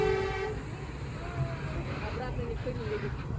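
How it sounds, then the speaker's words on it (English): Trains pass on the hillside at Sun World Ba Na Hills, a low rumbling roll with a tonal horn-like whine near the start and squealing tones later, heard amid background chatter and outdoor ambience. "here's the part where the trains pass"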